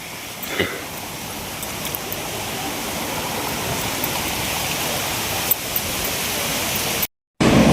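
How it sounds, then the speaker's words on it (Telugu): The Azhutha river rushes through Kerala forest at a bathing ghat on the Erumeli to Mukkuzhi pilgrim route, a loud, unbroken roar of flowing water heard up close that cuts out abruptly near the end. "నీళ్ళు వెళ్తుంటాయి ఇక్కడ"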